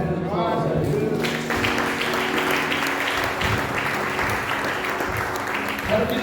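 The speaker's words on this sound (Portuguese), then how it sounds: "uma oferta de palmas a Deus" Church audience clapping together in a sustained burst offered to God during a sermon, dense and steady throughout, following a brief voice at the start.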